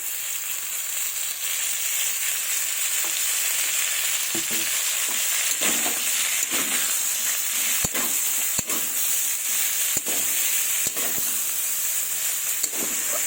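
Winter vegetables fry in hot mustard oil with a loud, steady crackling sizzle, broken by occasional sharp spatters and stirring scrapes, with no talk over it.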